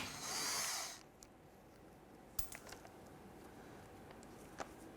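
A power tool whirs in a short, fairly loud burst while taking screws out of a 2012-2017 Toyota Camry, followed by quiet, scattered clicks and taps of handled parts.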